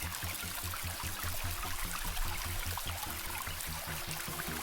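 A waterfall pours on steadily, a dense, continuous rush of flowing water with a pulsing low churn, close and unbroken, with no voices.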